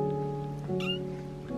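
A cat gives a long, drawn-out tonal meow lasting over a second, loud and close, with a slight rise partway through and no speech.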